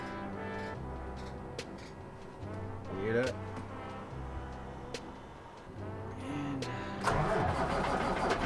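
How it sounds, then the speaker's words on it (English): A truck engine cranks and starts in a yard before a warm-up, followed by a mid-level idle that rises at the end, with voices talking faintly over it. "We gotta get in the truck, start her up, and warm it up."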